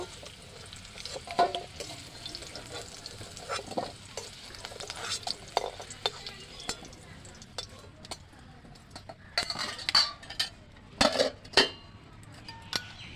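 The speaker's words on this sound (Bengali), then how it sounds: "আলুটা আমার ভাজা হয়ে গেছে আমি ছাঁচা দিয়ে তুলে নেব" Fried potato pieces are scooped out of hot mustard oil in a kadai with a slotted spoon, bringing steady sizzling and bubbling along with repeated metallic scrapes and clinks of the spoon against the pan, louder toward the end.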